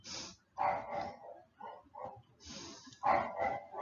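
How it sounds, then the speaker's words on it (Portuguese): A dog barks and yips in a few short, uneven bursts, heard at moderate distance and fairly faint against a quiet room. "deixa a Melissa latir"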